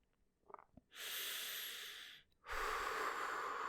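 Slow, natural breathing close to the ear: a few soft snuffles, then a long airy inhale, a brief pause, and a second long breath, quiet and unhurried.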